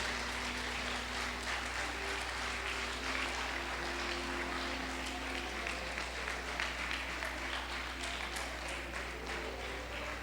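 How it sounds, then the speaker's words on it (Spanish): A church congregation claps loudly and continuously for about ten seconds, a dense wash of applause over a low steady hum. "Dale un fuerte aplauso al Señor."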